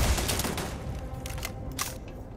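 A turret in the Starfield video game fires a dense, loud burst of rapid gunfire. The volley is continuous and fades slightly toward the end.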